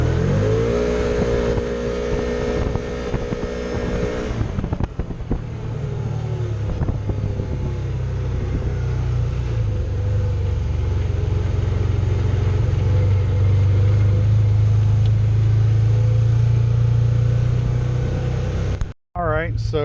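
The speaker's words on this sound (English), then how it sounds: "a four-wheel speed takeoff in sport mode" Can-Am Commander XT 800R in four-wheel drive and sport mode taking off from a stop, engine droning steadily as it builds speed amid wind buffeting, with a person talking over it.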